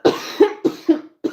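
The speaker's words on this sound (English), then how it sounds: "Excuse me for coughing." A person coughs alone in four or five sharp, harsh bursts spaced about a quarter second apart, close and fairly loud, with brief silences between.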